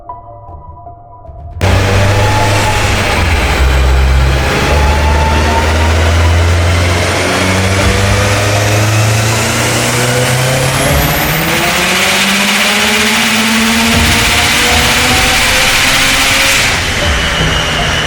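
An 800whp Subaru STI engine runs hard on a dyno, loud and close, with a sustained roar whose pitch climbs steadily through long revving pulls and stays continuous to the end.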